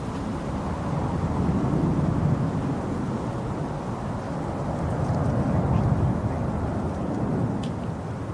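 An airliner departing Manchester Airport, a broad, continuous low roar of jet engines rumbling steadily at moderate distance, swelling slightly toward the end.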